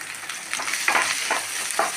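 Asafoetida powder fries in hot oil, making a steady, loud sizzle close by, with a few stirring scrapes rising over it. It is brief, with no talking.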